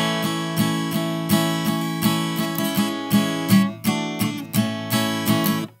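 An acoustic guitar plays a strummed chord passage that moves into a short melodic run of plucked notes, close and clear, with steady rhythmic attacks and no talking.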